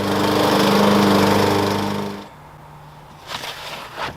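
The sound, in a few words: bagging lawn mower chopping sticks for compost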